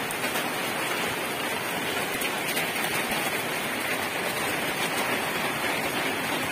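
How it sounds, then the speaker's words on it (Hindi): Steady, dense rain pours down continuously during a festival in Kokrajhar, a broad even hiss with no voices or other sounds. "बारिश आ गया, क्या करूँ यार।"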